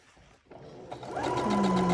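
A sewing machine starts up and stitches a trouser seam, its motor whirring up into a steady, close mechanical hum with a rapid needle rhythm.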